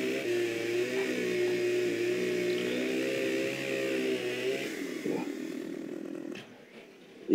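A Husqvarna chainsaw in Farming Simulator 15 drones steadily at a constant engine pitch for several seconds, then winds down and fades before a short bump at the end.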